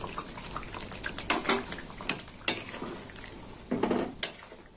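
Water is poured into a simmering mango and rohu fish curry in a pan, heard as several short splashing bursts with bright metallic clinks between them.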